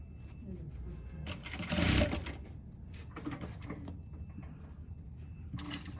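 A sewing machine whirs and clatters in short bursts close by while stitching stretchy fabric, with a louder rattling run in the middle and faint talking underneath.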